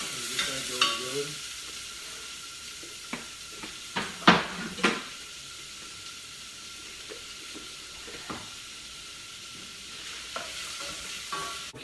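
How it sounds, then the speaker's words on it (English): Diced yellow onion sizzles and fries in hot olive oil in a pan. A steady hiss runs throughout, broken by several sharp clanks and scrapes of a utensil stirring against the pan, with no talking. "I got some hot olive oil going here."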